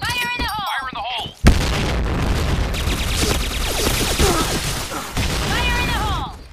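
Loud blasts and heavy gunfire in a first-person shooter game, with one sharp detonation near the start followed by sustained booming and crackling battle noise, while people shout over it.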